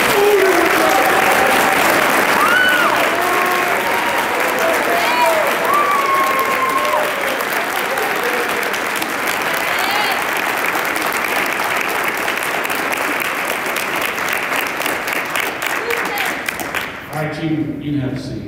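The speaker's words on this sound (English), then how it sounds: "All right, give them a round of applause." Audience applause at a youth challenge academy awards banquet for cadets, loud sustained clapping from a large crowd lasting a long stretch, with voices faintly audible underneath and a quick fade near the end.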